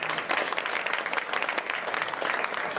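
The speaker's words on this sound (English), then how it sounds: "let's give a round of applause" An audience at a political campaign event in Tulsa, Oklahoma claps steadily. The dense, even applause fills the room throughout, with no voices standing out.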